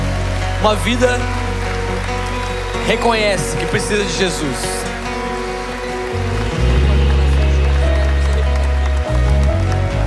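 A church congregation applauds during a worship service, a steady wash of clapping that swells in the second half under a preacher's voice and sustained background music.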